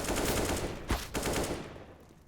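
AK rifle fire in Counter-Strike, a close, dense burst of rapid gunshots with a couple of sharper cracks, fading toward the end.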